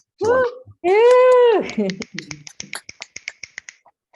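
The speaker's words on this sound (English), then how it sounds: "let's give Karen a set of snaps or applause or whatever" Online meetup attendees snapping their fingers for a speaker, a string of sharp, separate snaps quickening into a scattered run after a couple of drawn-out voiced sounds, all close and dry.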